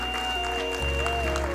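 Applause from an audience at a formal welcome ceremony for a dignitary, a dense wash of clapping heard close and steady throughout the short moment, with a faint voice mixed in.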